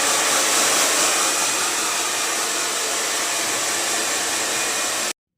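A professional hair dryer blows with a loud, steady rushing whoosh at close range, holding constant for about five seconds before cutting off abruptly to silence.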